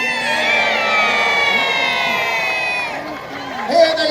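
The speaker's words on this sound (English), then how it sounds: "Let's have a cheer for the planes" Crowd of spectators, many of them children, cheering and shouting for model planes at a naval battle re-enactment in Peasholm Park, Scarborough; a sustained loud chorus of high voices that fades slightly before a final whoop.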